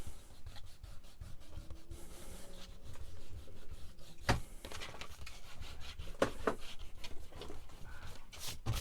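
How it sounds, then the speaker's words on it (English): Eraser rubbing out a pencil line on paper or card, quiet scratchy back-and-forth strokes in an irregular rhythm with a few sharper taps, close and soft. "So let me just rub my line out"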